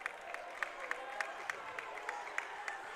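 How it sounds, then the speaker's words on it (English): Corbett fans at a girls high school basketball game against the Banks Braves applaud from the stands, a steady wash of crowd noise with scattered, faint claps rising through it. "Corbett fans applauding because they had 6 fouls called against them"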